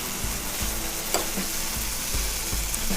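Ragi uttapam batter sizzles steadily on a hot pan, a close, constant frying hiss punctuated by soft periodic scraping or spreading knocks, with no talk over it.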